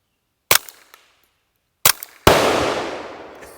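A Fletcher 11/22 rifle fires at a steel plate 100 yards away outdoors: two loud, sharp shots about a second and a half apart, followed by a burst of louder broadband noise.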